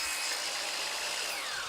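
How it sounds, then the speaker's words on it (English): Saw cutting a length of gutter during a house renovation, a quiet steady rasping cut lasting under two seconds with no pauses. "So he's going to measure his lengths, cut it to length"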